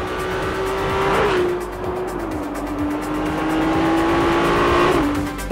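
A Ferrari 296 GTB's engine revs with a sustained, tuneful drone that steps up and down in pitch through gear changes, loud and close throughout.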